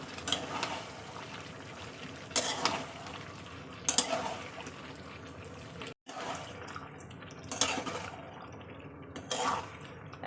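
About 750 grams of fish is gently stirred in a cooking pot, giving quiet scraping and clinking strokes at irregular intervals against a faint background, with no talk.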